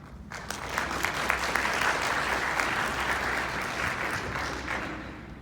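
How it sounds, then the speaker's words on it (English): Steady applause from a crowd, dense and sustained clapping that continues evenly throughout. "The clapping doesn't usually happen."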